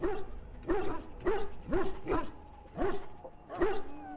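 A mabari war dog from the video game Dragon Age: Origins barks repeatedly in a steady rhythm, six or seven loud, close barks alone with no talk.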